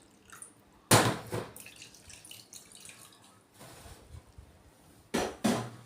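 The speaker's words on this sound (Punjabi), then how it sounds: "ਮੈਂ ਅੱਧੀ ਕੌਲੀ ਇਹਦੇ ਵਿੱਚ ਹੁਣ ਪਾਣੀ ਦੀ ਪਾ ਦੂੰਗੀ" Water splashes in two short bursts as half a bowl of water is poured into semolina and yogurt idli batter, near and fairly loud, with quiet gaps and faint handling sounds between them.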